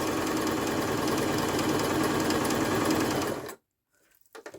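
A Babylock Zest sewing machine runs steadily at close range while sewing a zigzag stitch, a loud continuous rattling hum that stops abruptly near the end, followed by faint handling noises.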